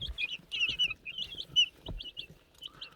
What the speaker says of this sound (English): Chickens are looking good.